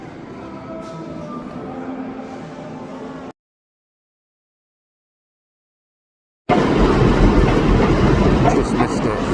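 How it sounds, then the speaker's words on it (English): A freight train rumbles and clatters through Leeds station, loud and close, in two stretches of steady rolling noise split by a few seconds of silence, with a voice briefly over the first part. "Just missed a freight train going through."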